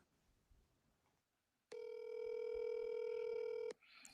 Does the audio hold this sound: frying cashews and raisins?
no